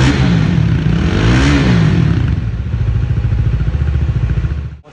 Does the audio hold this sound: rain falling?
no